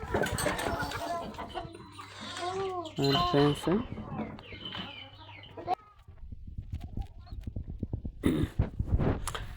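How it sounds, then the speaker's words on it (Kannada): Chickens and sheep on a farm make bleating and clucking calls that mix with nearby talking, against a steady outdoor background. "ಇವು ಕೋಳಿ ಮತ್ತು ಕುರಿ ಎರಡು ಮಿಕ್ಸ್ ಆಗಿ ಫ್ರೆಂಡ್ಸ್ ಇವು."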